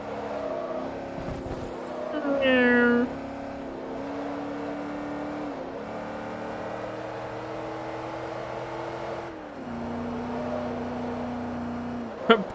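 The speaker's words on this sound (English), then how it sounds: "It's a lovely sounding engine" Car engine in the racing video game Forza Motorsport 3 drones steadily at a low hum with a brief rising rev early on, while a person talks over it.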